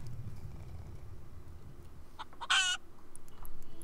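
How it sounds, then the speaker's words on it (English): A chicken in the game Don't Mind My Chicken gives a short burst of bright clucking near the middle, standing out over a soft, steady game background. "The chicken laid an egg!"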